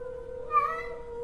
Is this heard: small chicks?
no